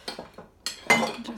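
A spoon scooping in a dish while Lithuanian Christmas Eve herring is prepared, several close metallic clinks and scrapes in quick succession, loud and clear with no talk.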